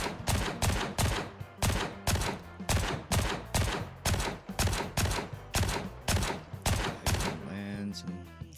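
Rapid bursts of rifle fire crack out in a steady rhythm, about two shots per second and loud up close, in the shooter game Gray Zone Warfare. The firing stops near the end with the rattle of a reload.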